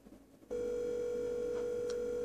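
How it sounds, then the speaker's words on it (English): A Samsung Galaxy Ace S5830 on speaker gives a steady electronic ring tone that starts abruptly after a brief quiet moment and holds evenly, close and unaccompanied. "as you heard, is ringing."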